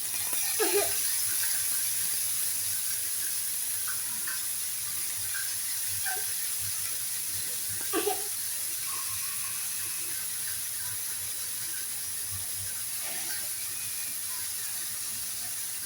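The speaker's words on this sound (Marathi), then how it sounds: "गिलके टाकलेत त्याच्यामध्ये, कढईमध्ये गिलके टाकलेत." Ridge gourd sizzles in hot oil in a wok for homemade sabzi, a steady bright hiss that holds throughout, with a few faint clicks and taps from the pan over it.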